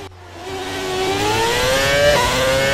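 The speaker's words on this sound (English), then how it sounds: "I'm just going to leave you with a few moments now of some ear pulling of this gorgeous engine" Red Bull RB6 Formula 1 engine in F1 2020 revving hard and climbing in pitch, a loud, close, sustained high-pitched howl rising steadily across the clip, with a brief gear-shift blip near the end and no talk.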